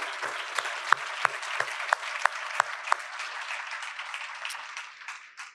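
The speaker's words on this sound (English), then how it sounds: "Could we give them a round of applause as well?" An audience at a fundraising event gives a round of applause for the table sponsors, a moderate wash of clapping with a few sharp nearby claps standing out, fading away at the end.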